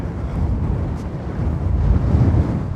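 A strong, constant wind blows across a stormy Black Sea beach at Anapa, a steady loud roar buffeting the microphone without sharp gusts.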